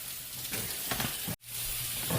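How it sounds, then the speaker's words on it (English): Onions cooking in a pot for a classic pot roast give a steady, close hiss and sizzle with soft stirring, broken by one very brief cut near the middle. "All these onions cooking."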